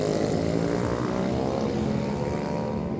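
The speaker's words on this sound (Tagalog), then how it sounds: "Ayan na yung mga nag-iingayan ng mga motor" Motorcycles revving noisily in the street on New Year's Eve make a continuous droning engine roar with buzzing harmonics, steady and moderately loud, with no speech over it.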